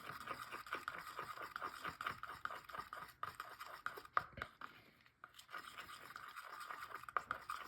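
A brush scrapes and swirls black and brown paint together in a cup, a soft, continuous stirring scratch with a brief pause near the middle.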